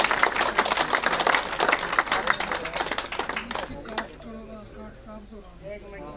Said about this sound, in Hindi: तालियों के साथ आप स्वागत करो भाई।